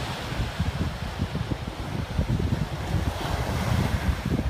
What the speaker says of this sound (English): Oh man, there's some waves out back too.